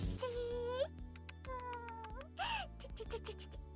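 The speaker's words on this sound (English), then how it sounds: "Cat. Cat. Cat." Several cat meows from the Tokyo School Life video game come one after another over soft game music, close and fairly loud, with brief clicky game sounds between them.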